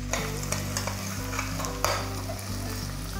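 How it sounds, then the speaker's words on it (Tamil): Onions for chicken gravy fry in a pan with a continuous close sizzle, while a spoon stirs and scrapes against the metal with several sharp clicks and knocks in an irregular rhythm. "பாருங்கள், வெங்காயம் இந்த அளவுக்கு நல்லா வதங்கிடுச்சு."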